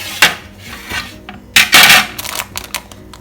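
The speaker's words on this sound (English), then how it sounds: "Just using my knife to loosen the sides here" A knife scrapes and clinks around the unoiled sides of a pan holding cooled banana bread. The metallic scrapes come close together in a quick, irregular series of bright, close-up strokes, with no talking.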